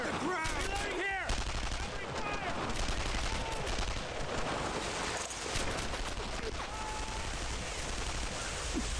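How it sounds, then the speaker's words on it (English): Suppressing gunfire in the World War II shooter game Brothers in Arms: rapid, continuous bursts of rifle and machine-gun fire rattle throughout, mixed with shouted voices and battle noise. "I need suppressing fire!"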